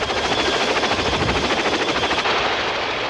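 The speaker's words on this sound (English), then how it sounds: "make extensive use of the Boeing Vertol CH-46 Sea Knight tactical transport helicopter" A Boeing Vertol CH-46 Sea Knight twin-engine military transport helicopter gives a steady, loud rotor drone with rapid rhythmic chopping, continuous throughout and close by.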